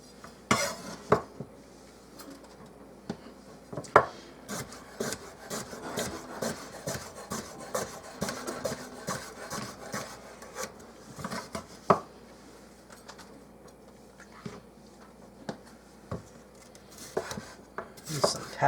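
Cucumber, carrots and pepper being chopped for a garden salad with apples and walnuts: quick, uneven knife strikes on a board mixed with clattering dishes and scraping, steady and close throughout with no talking.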